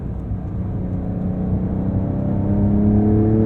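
A 2023 Porsche 911 T with a manual gearbox accelerates in Sport Plus mode on Angeles Crest Highway, its engine note rising steadily in pitch and growing louder over a few seconds from inside the car, with no talking.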